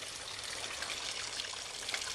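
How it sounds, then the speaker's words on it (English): Steady running water from a garden water feature at night, a soft continuous trickle and splash holding an even level throughout with no voices. "Just listening to the flow of the water and the water feature."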